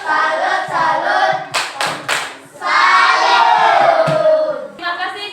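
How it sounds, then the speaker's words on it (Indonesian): A primary-school class in Indonesia gives a rhythmic 'tepuk salut' clap for a student, with a few sharp bursts of group clapping set among loud, sustained chanting voices of many children, close and lively. "Kita kasih dulu tepuk salut untuk Satria"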